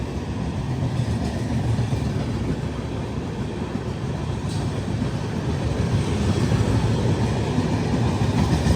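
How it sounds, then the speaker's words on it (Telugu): Mumbai Mail train passing close alongside on the adjacent track, a steady, loud broadband rumble and rush of wheels and carriages holding throughout with no talk. "మన ట్రైన్ ఇంకో ట్రైన్ ఓవర్టేక్ అయితే చేస్తుంది."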